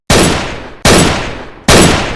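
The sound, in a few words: gunshot sound effect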